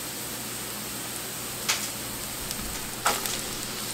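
Baby bella mushrooms dropped into a pan of cooked onions: a steady, even sizzle of frying, with two brief clatters from stirring or dropping, with no talking.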